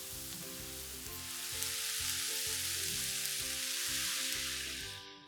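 Roughly chopped tomatoes added to browned onions in a pan for Punjabi curry base gravy, a loud continuous close sizzle and hiss with a low rhythmic hum beneath, fading slightly at the close.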